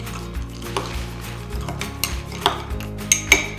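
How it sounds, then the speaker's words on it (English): Mac and cheese noodles with garlic powder being stirred in a dish, with clinking utensil-on-dish knocks and scrapes over a background of music, close and fairly loud, no talk. "Stir that again too."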